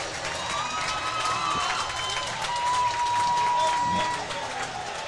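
Spartan fans applaud a winning goal at a Mayo vs New Prague game: steady, dense crowd clapping and cheering fills the arena, swelling slightly toward the middle, with a few thin whistle-like tones running through.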